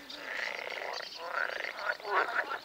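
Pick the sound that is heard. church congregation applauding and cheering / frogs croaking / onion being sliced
frogs croaking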